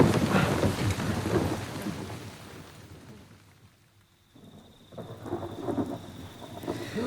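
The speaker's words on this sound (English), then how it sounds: "We can shelter there and hope that the storm dies out before the water gets that high." Heavy rain pours down with rumbling thunder in a loud thunderstorm; the downpour eases into a quieter lull midway, then swells back up to full strength.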